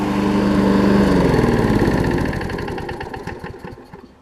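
A Briggs and Stratton Quantum push lawn mower engine runs close by with a steady, smooth putter that gradually winds down into slower, separate firing pulses as it shuts off.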